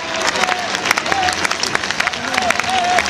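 Audience clapping rhythmically at a comic bullfight show in Benidorm, Spain, loud and close with sharp hand-clap accents, mixed with crowd noise and shouting voices.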